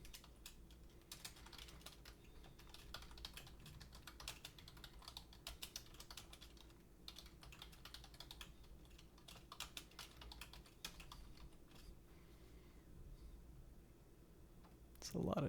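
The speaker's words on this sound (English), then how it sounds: "A lot of typing." Quick bursts of computer keyboard typing clatter close by over a soft, steady hum, irregular runs of clicks with short pauses, and a louder thump right at the end.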